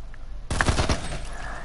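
A short, quick burst of several gunshots in a video game shooter, fairly close and punchy, rattling off in rapid succession before fading into background game ambience.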